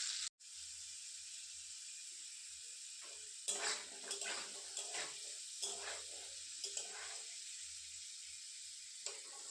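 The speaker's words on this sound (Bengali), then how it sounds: "তো আলুগুলোকে এবার একটু লাল লাল করে ভেজে নেবো।" Potato pieces frying in hot oil in a wok, a steady close sizzle with bursts of crackling and stirring clatter partway through, no voices.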